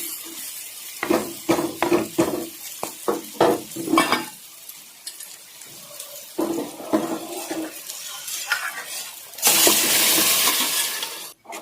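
Dal tempering in a pan on a raised gas flame: a run of close scraping stirs in short bursts, then a loud, steady sizzle and hiss near the end.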